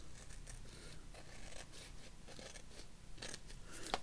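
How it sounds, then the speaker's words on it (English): Scissors trimming along the bottom edge of a paper craft piece, with soft, quiet snipping and rubbing strokes close by and no talking. "We can just trim along the bottom."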